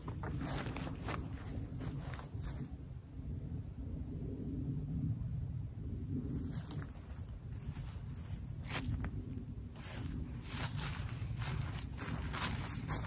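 Footsteps moving through woodland, a steady series of soft crunching steps on the forest floor over a low rumbling outdoor background, continuing throughout with no talking.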